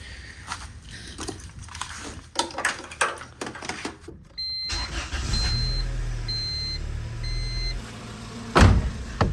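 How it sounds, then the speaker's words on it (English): A Honda B16 engine swapped into a 1996 Civic EK hatchback cranks and starts, then settles into a steady idle with a low, even rumble, a beeping chime pulsing over it and scattered clicks and handling noises before. "it seems to be idling about the same, right at about 700 RPM"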